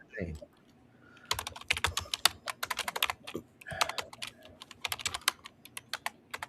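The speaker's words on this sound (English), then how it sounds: "Oh, somebody's typing." Rapid typing on a computer keyboard, dense bursts of crisp key clicks with short pauses between runs, close and fairly loud, after a brief voice at the very start.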